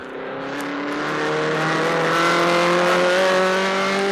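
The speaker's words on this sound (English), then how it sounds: "We're accelerating through the pits in second gear, up into third, and then fourth." Racing car driven by Stirling Moss accelerating through the pits, heard from an onboard microphone: a loud engine whose tone climbs steadily through the gears, rising then holding near full volume, alone without talk.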